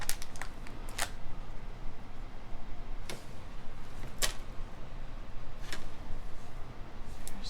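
Green metallic leather cord being cut into lengths, a few sharp, isolated snips spaced seconds apart over a quiet, steady room hiss.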